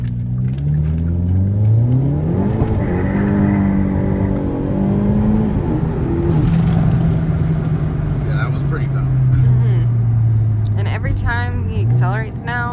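A tuned Hyundai Elantra N pulls hard from inside the cabin, its engine note climbing through rising revs, dropping at a gear change, then climbing again, loud and close, with someone talking over it.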